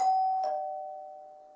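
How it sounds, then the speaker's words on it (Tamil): An electric calling bell mounted above a house's front door at the portico rings in a two-note ding-dong, the second strike landing just after the first, and the tone rings on and fades slowly with nothing else heard. "இன்ஸ்பெக்டர் முதல் ஆளாக போர்ட்டிகோ படியேறி கதவுக்கு மேலே இருந்த காலிங் பெல்லை கதறவிட்டார்"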